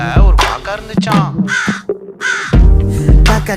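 A human voice mimics a crow's caw in a Tamil stage performance for World Drama Day, giving a few loud, harsh, nasal calls, close and alone with short gaps between them.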